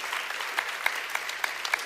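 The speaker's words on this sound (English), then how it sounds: "Let's all give our recent graduates a round of applause." Audience at a company town hall claps for recent graduates, a moderate wash of applause with a few sharper individual claps standing out near the microphone.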